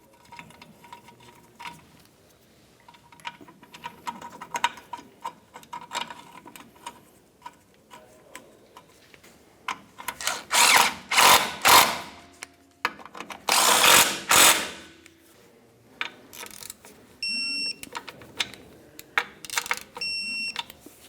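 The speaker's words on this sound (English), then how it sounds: "We'll start in each of our two mounting bolts and snug them up." A ratchet wrench snugs up the two mounting bolts of a front upper control arm on a 1999-2006 Chevrolet Silverado pickup, with bursts of rapid metallic clicking and loud close-up ratcheting between quieter tool handling sounds.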